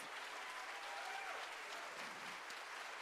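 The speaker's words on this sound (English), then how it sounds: "give a huge round of applause" A town hall meeting crowd inside a church claps steadily in sustained applause, dense and even throughout with no talking over it.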